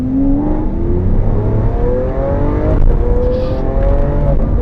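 A loud engine revs up and holds high through the gears, with sharp crackling backfire pops from the exhaust.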